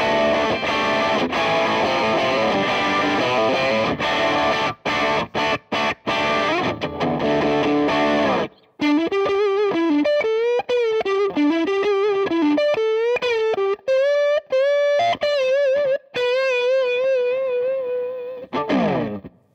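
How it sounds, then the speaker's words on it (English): An electric guitar played through a high-gain Marshall-style distortion pedal: thick, saturated chords first, then a searing lead line of sustained bends and runs, loud and continuous with no talking. "So as you might have heard, that pedal has an even more searing, high gain, heavy, modern sort of tone"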